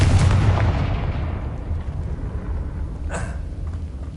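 Confringo blast spell in Hogwarts Legacy: a loud, heavy explosion with a long rumbling decay, followed about three seconds later by a sharper, crackling burst.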